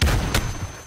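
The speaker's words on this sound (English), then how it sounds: "Oh, he trying to rocket launch me back, brother." A rocket launcher fires in the video game Modern Warfare: a single loud, close boom with a rushing blast that quickly fades out.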